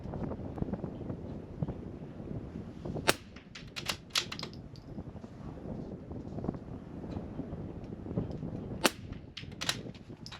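Rimfire .22 rifle shots ring out at an NRL22 match, a few sharp cracks with metallic hits on steel targets, fairly distant against steady wind and outdoor background noise.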